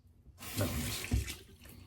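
A bathroom sink faucet runs water during a shave, a steady broadband rush starting after a short quiet moment and holding fairly evenly, with a couple of louder splashing surges, close and moderately loud with no talking.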